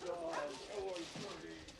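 Dogs barking and yipping in a film scene, short excited yaps mixed with whimpers, heard under a steady bed of talk and background sound.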